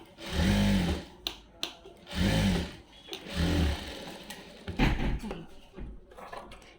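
A sewing machine stitches through cloth in several short motorized runs, each a loud, steady whir that stops between seams. The machine is close and dominant throughout.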